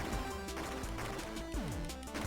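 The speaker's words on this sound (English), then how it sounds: "that's the sound of me clicking the A button" A short burst of game sound effects from pressing the A button in the Switch platformer Kid Tripp, with a sharp crash-like hit and quick descending tones over dense, busy game noise.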